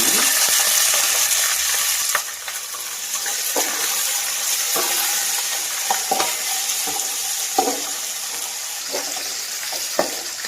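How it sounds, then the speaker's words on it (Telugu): Onion and green chilli pieces fry in hot oil with a steady, loud sizzle, broken by intermittent stirring scrapes and clicks, with no voices. "ఉల్లిపాయ ముక్కలు పచ్చిమిరపకాయ ముక్కలు కొంచెం వేగినాయండి"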